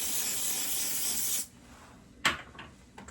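Hair spray hissing steadily from an aerosol can onto a wig, a broad close spray for about a second and a half, then stopping, followed by a couple of brief soft rustling touches.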